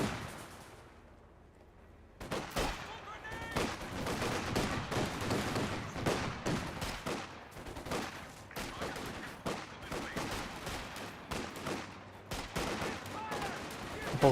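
Dense battle gunfire from the World War II strategy game Company of Heroes 2, rifle and machine-gun bursts with artillery thumps rolling almost continuously after a quiet opening, loud and layered with overlapping volleys.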